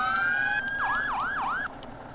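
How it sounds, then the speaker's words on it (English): An emergency vehicle siren in the video game FS:911 wails steadily, then switches to rapid rising-and-falling yelps, loud and close with no voices. "We still have sirens"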